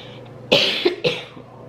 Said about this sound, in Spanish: pinche tos, no me deja.